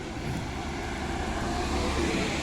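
Motorcycles and cars pass along a busy road around half past nine at night, blending into a steady, dense roar of traffic with no single vehicle standing out.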